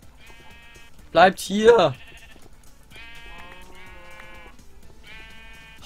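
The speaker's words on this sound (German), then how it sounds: "Oh, ein Schaf." Sheep bleating in the Minecraft video game, two loud close bleats in quick succession near the start, followed by someone speaking German.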